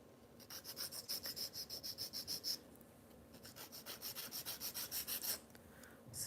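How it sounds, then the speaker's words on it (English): A nail file rasps across a fingernail in quick, even back-and-forth strokes, two runs of about a dozen soft scrapes each, close and quiet with no voices. "So I'm just only filing to get a little bit of a better shape."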